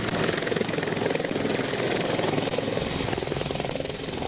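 Frontier Corps and Pakistan Army helicopters arriving for earthquake relief in Awaran district, Balochistan, produce a loud, continuous rotor thump and turbine roar, steady and close throughout.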